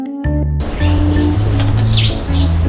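Buffalo mynas (jalak kebo) released outdoors burst into flight with a flurry of flapping wings, over a steady low hum and scattered chirps.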